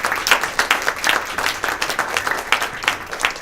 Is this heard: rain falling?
no